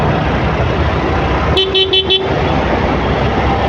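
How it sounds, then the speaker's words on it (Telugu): Busy Hyderabad road traffic rumbles loudly and close, with a short burst of car horn toots partway through over the constant engine and road noise. "చాలా ట్రాఫిక్ ఉంది అయితే"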